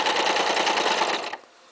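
A sewing machine stitches two fabrics along a curved seam in a rapid, even run of needle clatter for over a second, then stops, leaving quiet room tone.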